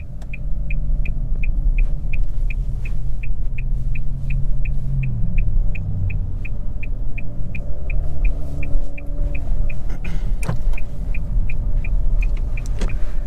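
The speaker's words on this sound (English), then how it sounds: "let's go ahead and take the Altima SR for a quick drive and see how she does" 2023 Nissan Altima SR VC-Turbo driving, heard from inside the cabin as a steady low road and engine rumble, with a rapid regular ticking like a turn signal through most of it.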